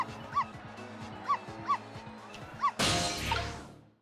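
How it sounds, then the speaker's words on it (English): Cartoonish dog barks from the video game Ghost Trick: Phantom Detective, four short yips spaced out over a steady game soundtrack, then a loud burst of noise at the end. "Bark, bark. Bark, bark, bark."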